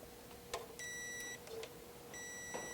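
Two steady electronic beeps from a multimeter continuity tester checking a fuse on a 1995 Mitsubishi, each about half a second long, with light clicks from the probes between them and no talking.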